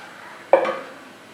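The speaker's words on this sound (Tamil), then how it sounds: "பேனில் தேவையான அளவுக்கு எண்ணெய் ஊற்றிக்கலாம்." Cooking oil poured into a frying pan before frying fish: one short, close splash and clink near the middle, fading quickly into quiet, with no one talking.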